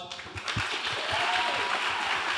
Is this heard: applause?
yes